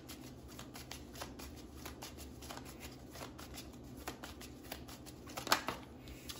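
Tarot cards being shuffled during a reading: a steady, soft riffling and flicking of cards close to the microphone, continuous throughout with a small snap near the end, no voices.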